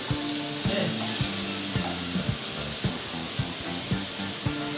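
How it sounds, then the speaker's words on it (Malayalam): Three medium sliced onions drop into hot oil and sizzle steadily and close, with a bright frying hiss throughout and a few clinks of a utensil against the pan. "3 മീഡിയം സൈസ് സവാള ഇതിലോട്ട് ഇട്ട് കൊടുക്കും. സൗണ്ട് കേൾക്കാം, സൗണ്ട്."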